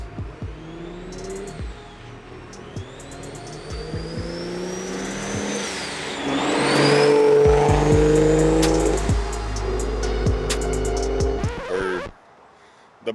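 A BMW 335i with a built N54 engine accelerates hard, its note rising in long sweeps and building to a loud, sustained roar before cutting off abruptly near the end.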